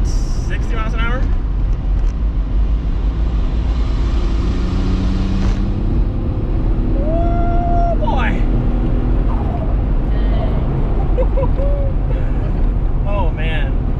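A VR6 turbo wagon's engine pulls hard at near full throttle in third gear around 60 mph, a loud continuous drone with rising whistling turbo tones, and a person talks over it.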